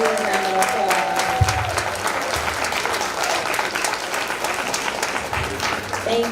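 Applause and clapping from a crowd at a school board meeting, honouring teachers and school leaders; steady, dense clapping fills the whole stretch at moderate loudness, with a brief low thump near the start.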